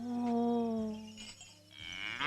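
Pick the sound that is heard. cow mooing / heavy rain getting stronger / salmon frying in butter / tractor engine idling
cow mooing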